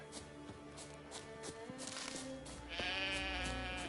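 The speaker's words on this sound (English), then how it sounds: "Don't need to bother too much with the sheep." Sheep bleat several times in The Witcher: Wild Hunt on PS5, quiet and slightly distant over soft in-game ambience.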